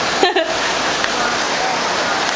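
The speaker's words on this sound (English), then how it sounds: "Yeah, it's raining pretty hard. So we got our own little waterfall right there" Heavy rain roars as a dense, steady wash of noise with a small waterfall running close by; a short bump of other sound comes near the start.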